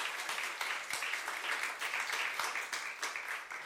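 A church congregation at a Korean youth service bursts into sustained applause, dense and continuous clapping from many hands filling the room without any voices over it.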